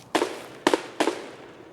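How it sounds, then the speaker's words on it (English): Distant unsuppressed shotgun fire in the Escape From Tarkov video game, three sharp reports at uneven spacing, each with a short echoing tail, fairly faint and alone. "That gunfire is coming from an unsuppressed shotgun, which is a scav trademark."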